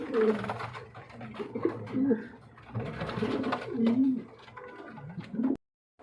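A pair of yellow king pigeons, newly adult, cooing in soft repeated bursts close by, with a few faint chirps mixed in.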